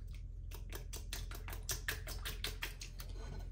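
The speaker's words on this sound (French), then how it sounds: "à l'aide de mon fouet, je vais bien mélanger le tout." Eggs with orange blossom water are whisked in a bowl, giving a quick run of rhythmic clicking taps of the whisk against the bowl, close and steady, with no talking.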